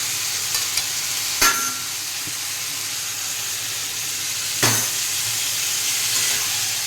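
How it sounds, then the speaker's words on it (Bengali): A jackfruit seed and potato curry fries in a pan under a constant loud hiss of sizzling, broken by two brief sharp spatula knocks, close and without voices. "দিয়ে ভালো করে এটাকে কষিয়ে নিতে হবে।"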